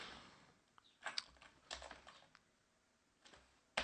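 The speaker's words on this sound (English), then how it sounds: "I hate it when I have to retype these commands like this." Commands being retyped on a computer keyboard: short bursts of close key clicks with brief pauses between them and a sharper final cluster, quiet and with no voices.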